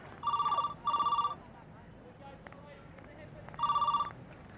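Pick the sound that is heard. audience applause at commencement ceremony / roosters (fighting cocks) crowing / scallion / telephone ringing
telephone ringing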